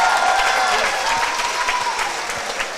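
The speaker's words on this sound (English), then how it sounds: "Please give a big round of applause for the regular season 56th District All-District team" Crowd at a girls' high school basketball district championship applauding regular-season all-district team award recipients, a steady burst of clapping from a gym audience that tapers slightly over a few seconds.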